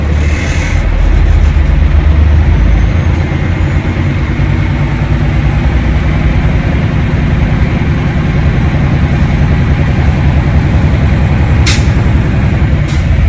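A manual-transmission truck's engine is revved from the cab to build air pressure to 120-140 psi, giving a loud, continuous diesel drone near at hand, with a brief hiss of air partway through.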